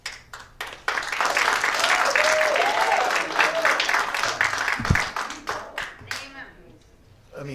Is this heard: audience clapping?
yes